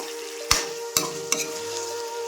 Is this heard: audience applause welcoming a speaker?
no